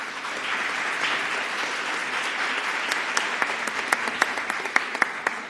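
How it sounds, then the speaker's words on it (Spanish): An audience at a symposium on justice, research and mental health applauds a doctor after his introduction. Steady clapping thins out toward the end, leaving scattered, distinct individual claps. "Un aplauso para el doctor"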